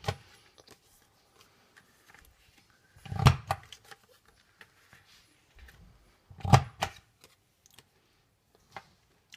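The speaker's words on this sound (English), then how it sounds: "using my punch board, I'm going to round those leftover corners using the back side of my envelope punch board" An envelope punch board rounding the corners of a paper card, with two distinct sharp punch clunks several seconds apart among faint small paper and tool clicks.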